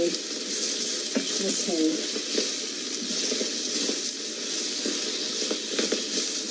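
Hash browns frying in a pan for breakfast, a steady hiss and sizzle with periodic scraping stirs, and a brief spoken word over the cooking.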